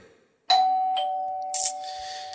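A doorbell rings once with a bright two-tone chime, its clear tone ringing on and fading slowly, with no voices.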